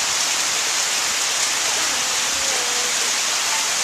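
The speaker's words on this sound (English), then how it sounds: "That's some cold rain." Cold rain pours steadily in a windy storm, a dense even hiss that continues without a break and with no voices over it.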